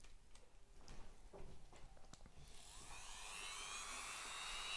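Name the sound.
small grinding wheel working on a brass carburettor plug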